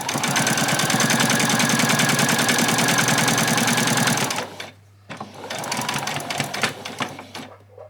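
Close and loud, a sewing machine runs steadily along an apron hem, halts for a moment, then resumes in a shorter, slightly uneven burst.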